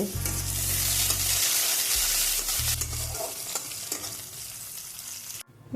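Black cumin seeds, chopped garlic and green chili crackle and sizzle in hot oil, a steady broadband frying hiss with stirring scrapes and low pan thumps, close and loud with no voices, ending abruptly.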